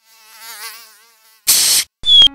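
Insect buzzing from mosquitoes in the Cuphead game, a wavering high whine rising and fading, then cut off by two loud, harsh bursts of noisy game effects.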